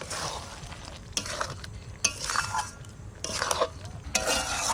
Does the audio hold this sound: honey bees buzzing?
no